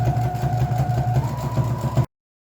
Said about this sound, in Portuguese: Fiz uma costurinha em toda a borda do saquinho para fechar ele